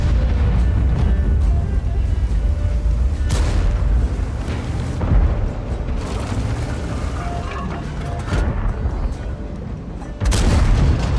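Tank cannon fire from the ST-II heavy tank in World of Tanks, heard as several loud, deep booms spaced seconds apart over a constant low rumble of engine and battle noise.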